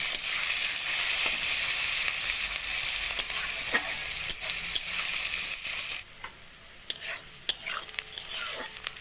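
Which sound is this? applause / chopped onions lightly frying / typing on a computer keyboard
chopped onions lightly frying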